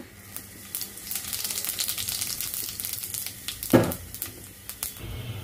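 Whole cumin seeds and dried red chili frying in hot oil for a bitter gourd and masoor dal dish, a steady close crackling sizzle with a louder spitting burst near the middle.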